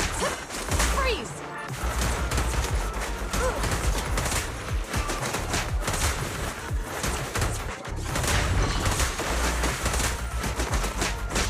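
Heavy gunfire in the Zenless Zone Zero action game, a dense continuous barrage of shots and impacts, loud and sustained, layered with combat effects and occasional shouted voices.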